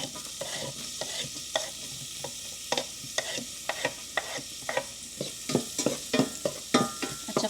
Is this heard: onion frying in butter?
yes